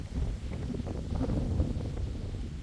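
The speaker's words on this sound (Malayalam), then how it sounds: "കാറ്റടിക്കുന്നുണ്ട്, മഴയും ചാറുന്നുണ്ട്." Steady wind buffeting a nearby microphone at Singappara, Siruvani, during light rain, a low continuous rumble with gusty swells throughout and no voices.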